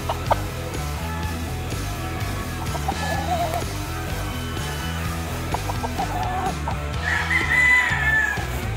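Roosters crow and cluck on a farm at midday, loud and continuous, with several birds overlapping and a long crow rising near the end.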